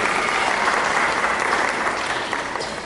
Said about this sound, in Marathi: टाळ्या वाजवा ह्या बाबांच्यासाठी